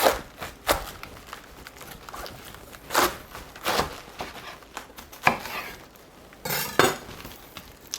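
A knife crunches through a firm, dense cabbage, cutting it in half with several uneven cuts, thuds on a cutting board and a few light clinks nearby.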